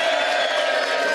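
A live crowd at the Wildbad Weekender cheers and whoops, a loud, dense wash of voices and shouts filling the room without a break.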